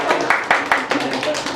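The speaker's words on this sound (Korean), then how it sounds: "여러분 크게 한번 박수해 주십시오" A church congregation claps in celebration during a Sunday service, with a quick, uneven run of claps close by and a voice speaking over them.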